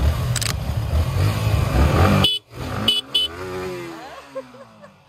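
Yamaha R15 V4 and R15 V3 motorcycles at a drag race start: loud, close engine roar and revving that cuts off abruptly, followed by short sharp bursts and a fainter engine sound trailing away.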